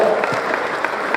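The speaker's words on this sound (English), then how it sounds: "applause for yourselves" A brief burst of dense applause comes from the audience at a 24 Hours of Lemons racing awards ceremony, steady and full, with faint crowd murmur beneath.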